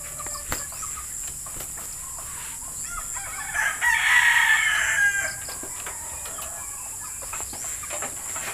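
A rooster crows once in the distance over steady farmyard hum and faint clucking from stag gamecocks nearby.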